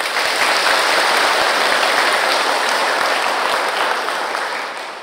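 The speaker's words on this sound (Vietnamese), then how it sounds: "Cho một tràng pháo tay." An audience gives a round of applause at a Buddhist dharma talk, a dense, even wash of many clapping hands, loud and steady, easing slightly toward the end.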